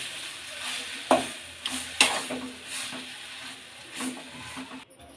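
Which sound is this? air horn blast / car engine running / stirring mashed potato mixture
stirring mashed potato mixture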